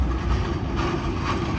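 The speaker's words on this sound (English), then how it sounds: "And they still use manned helper locomotives here." A Norfolk Southern freight train with manned helper locomotives rolls through Altoona, Pennsylvania. It makes a steady, loud, dense rumble with continuous rail noise throughout.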